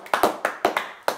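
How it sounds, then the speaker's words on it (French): One pair of hands claps about five times in a quick, slightly uneven burst, each clap sharp, close and dry. "Ouais, moi, j'applaudis."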